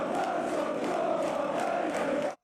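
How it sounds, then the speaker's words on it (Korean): Football crowd of West Ham fans chanting a song about Manor Solomon in the stands, a dense sustained roar of many voices singing together without a break, fairly loud and continuous until it cuts off abruptly. "마노르 솔로몬이 팔레스타인을 싫어한다는 내용을 담은 이 응원가는 몇 년 전 그가 리즈 유나이티드에서 뛸 때 리즈 팬들이 처음 불렀던 것입니다"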